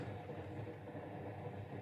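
A steady train rumble from a radio drama, a continuous low rolling noise of a railway carriage in motion, held at an even, moderate level with no voices over it.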